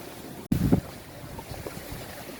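Strong wind buffeting the microphone while sailing a boat in rough seas at 25 knots from the southeast, with a sudden loud gust thump and a low continuous rumble of wind and water.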